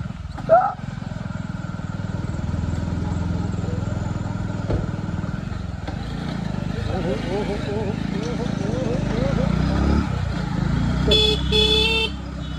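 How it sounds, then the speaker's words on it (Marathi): A car edges out through a dense temple crowd at Marleshwar. Its engine rumbles low beneath a busy murmur of voices, with a motorbike nearby and a couple of short horn toots near the end. "तर आम्ही आता गाडी काढायचा प्रयत्न केला"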